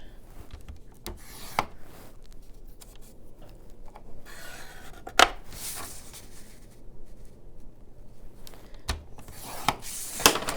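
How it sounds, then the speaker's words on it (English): Scoring tool drawn along three sides of a paper pocket for a junk journal, giving quiet rubbing, scraping strokes with a few sharper scratches, close and alone without talk. "we're going to score these 3 sides 1/2 inch"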